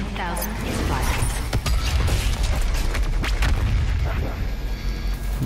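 Heavy weapon fire from the BFG 10,000 in Doom Eternal, a dense stretch of booming blasts and crashing impacts with continuous loud rumble, while a voice talks over the din.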